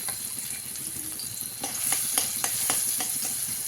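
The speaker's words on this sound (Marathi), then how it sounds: "आता त्या कढईमध्ये काढलेली मिरच्या आणि लसूणचं पेस्ट टाकून घेऊया" Chili and garlic paste frying in a hot kadhai for a home-cooked Marathi dish, a loud close sizzle that swells as it is stirred, with a few scraping strokes and no talking.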